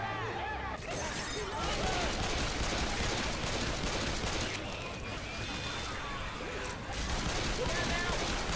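Video game combat with dense, continuous gunfire and crashing impacts, loud and chaotic throughout, with voices shouting over the shooting.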